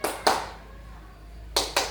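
Sharp hand claps in a teacher's physical-education clapping pattern: two quick claps, a short quiet gap, then two more, sounding close in a room with no other noise.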